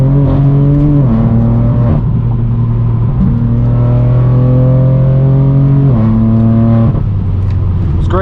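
A BMW M4 F82 with a loud exhaust drones heavily while driving on a highway, its deep engine note climbing steadily through the gears, with brief dips at each shift, loud and close throughout.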